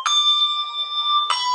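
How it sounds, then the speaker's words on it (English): A small handbell struck twice, each clear metallic ring sustaining with a bright tone and slowly decaying, the second strike coming about a second later. "I didn't know when to ring the bell."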